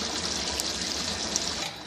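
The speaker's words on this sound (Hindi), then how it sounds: "अब हम इसके अंदर पानी ऐड कर देंगे और चिकन को गलाने के लिए रख देंगे।" Water poured into a pot of browned chicken korma masala, a steady close trickle and splash running unbroken for about two seconds with no talk.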